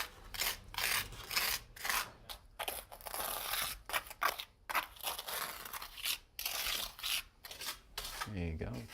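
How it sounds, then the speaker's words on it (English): Hardened excess foam being scraped off a concrete wall during a two-component concrete repair mortar job, heard as a close, repeated rasping scrape in short strokes with brief pauses between them. "I'm just going to scrape off the excess on the wall."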